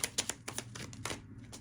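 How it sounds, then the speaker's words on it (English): A deck of tarot cards being shuffled by hand, a quick run of crisp riffling bursts at close range that ends in a short pause, with a low hum underneath. "I'm steady shuffling."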